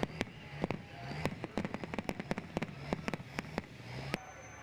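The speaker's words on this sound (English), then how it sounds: "there's fireworks in the sky and on the track." Fireworks crack and pop in a rapid, irregular string of sharp bangs, some distant and some closer, over a steady background rumble at an outdoor truck and tractor pulling event.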